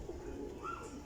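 Teddy Sialkoti flying pigeons in a loft give low throaty coos, a soft rolling burble close by over a faint background hum, with no one speaking.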